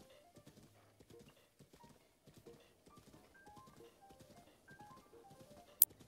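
Horse hooves clip-clopping in the video game Zelda: Breath of the Wild, a steady galloping patter of hoofbeats under soft game music, quiet overall, with one sharp sound near the end.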